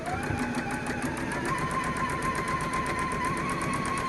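A sewing machine stitches patchwork fabric in a steady, rapid mechanical whir with even needle ticks, running close and continuously without pause.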